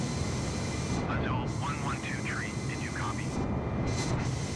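An Airbus A320 taking off in a flight simulator at dawn from Cartagena, a steady broad engine roar with faint chirping tones above it, while someone talks over the sound.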